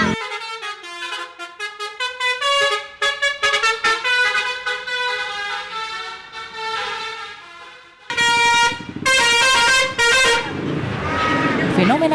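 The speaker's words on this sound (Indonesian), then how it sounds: "Fenomena klakson telolet dari bis akap dan bis pariwisata kembali marak." Telolet musical horns on Indonesian intercity and tour buses play loud melodic toots in repeated rising and falling tune phrases, with a second louder burst later and crowd noise behind.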